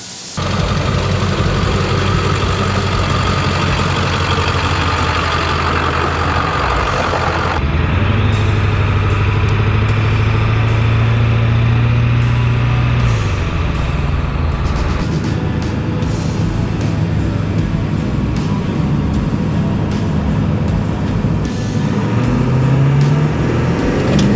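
A 500 HP 7.3 Powerstroke diesel Ford Excursion launches on about 50 psi of boost, its engine a loud, sustained diesel roar with rising turbo whine as it pulls hard and keeps accelerating.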